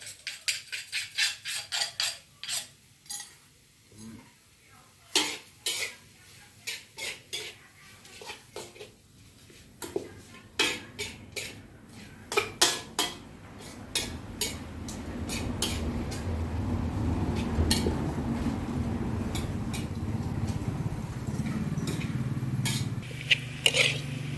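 Field rat meat stir-fried dry in a pan, with dense clattering utensil scrapes and rattles against the pan, building into a steady sizzle in the second half; no talking.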